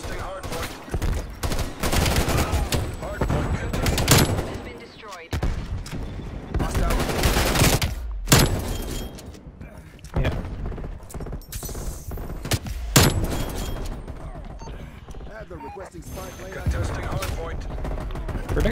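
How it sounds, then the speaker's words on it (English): Rapid automatic gunfire from Black Ops Cold War, loud, dense bursts of shots separated by short pauses, with talk mixed in. "He just fired at someone else and one bullet went through the whole fucking sculpture and hit me"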